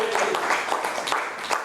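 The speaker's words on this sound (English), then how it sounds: "Just applaud." An audience at a men's club meeting applauds, a dense patter of many hands clapping steadily at moderate distance, with voices mixed in underneath.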